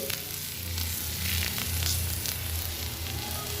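Chili powder and turmeric frying in hot oil in a pan, a steady close sizzle with faint crackle and a low hum beneath, no voices.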